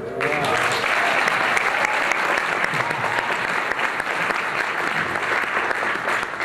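Audience at an Ethiopian Airlines Boeing 777-200LR event breaks into sustained applause, dense and even clapping that holds steady for several seconds with little talk.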